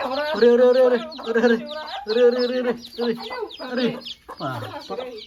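A hen and her chicks nearby, repeated clucking calls in short rhythmic bursts, with soft high peeping and a voice speaking at points.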